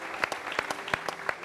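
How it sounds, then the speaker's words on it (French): An audience applauds for an artist, a steady patter of many hands clapping at a moderate distance, brief and even throughout. "On va applaudir pour lui"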